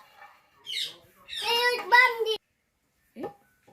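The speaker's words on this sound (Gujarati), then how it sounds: "એ પેરોટ પણ બોલે છે." A parrot lets out a short run of harsh, voice-like squawks, then falls quiet before one brief final squawk.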